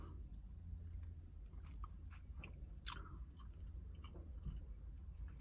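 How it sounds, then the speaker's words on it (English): Gum being chewed right at the mouth, soft wet smacking and clicking in an irregular rhythm, quiet and close with no talking. "I got a lot of gum in my mouth."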